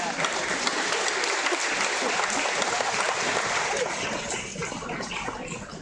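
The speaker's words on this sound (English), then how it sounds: "A nice round of applause for your parents and your families and friends" Graduation audience applauds parents, families and friends with a steady wash of clapping from a large crowd, holding level for several seconds before easing slightly toward the end.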